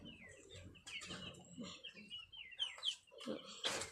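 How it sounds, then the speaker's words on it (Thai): Small chickens cluck and chirp in short, irregular bursts around a duck and chicken coop on a farm. The calls are fairly faint and close, with a few brighter peeps standing out. "นี่นะครับไก่ตัวเล็ก"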